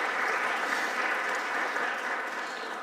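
A concert audience at a sacred music performance keeps up sustained applause, an even crowd wash of clapping that holds steady throughout and eases slightly toward the end.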